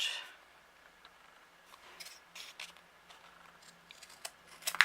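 Scissors snip through craft material for a homemade desk caddy, a scattering of faint, close cuts with quiet gaps between, growing sharper and louder toward the end.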